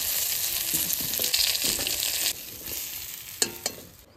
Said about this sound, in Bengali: মাছটা সুন্দর করে ভেজে নিচ্ছি লাল লাল করে।